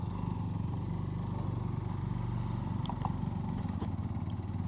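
Hero Glamour X 125cc motorcycle engine droning steadily while riding, a constant low rumble with road and wind noise throughout and a few faint clicks near the end.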